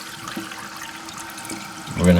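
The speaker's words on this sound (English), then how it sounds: "I'm gonna turn the water on." Water runs into a toilet tank being refilled after a new flapper valve is fitted, a soft steady hiss and trickle that swells near the end into a louder rush of filling water.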